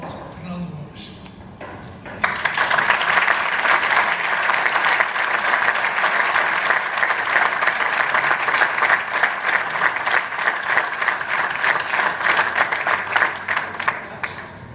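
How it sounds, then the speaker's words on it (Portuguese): Audience applause at a football club day ceremony: after two seconds of quieter murmuring, dense clapping bursts in loud and stays sustained and even to the end, with some voices mixed in. "Eu só queria saudar e querer uma salva de palmas ao nosso Fernando Gomes"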